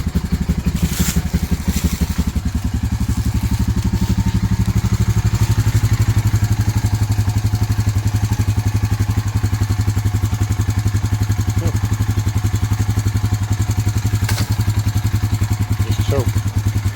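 A Honda Rancher ATV engine idles steadily right after starting, a close, loud, even putter with a clattery beat, while a person talks over it.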